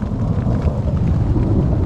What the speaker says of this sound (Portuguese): E agora não para de chover e de cair pedra ainda.